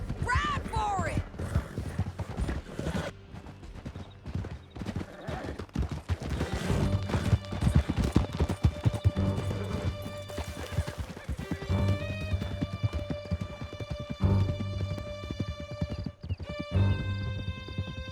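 Horses gallop in Red Dead Redemption 2, the rapid clip-clop of hooves driving steadily throughout with neighs, crashes and game music layered on top, while voices shout over the ride.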